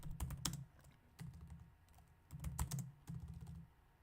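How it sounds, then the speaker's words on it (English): Typing on a computer keyboard: bursts of quick, clattering key taps in several runs, close and clear with no talk. "I'm trying to figure out how to type it"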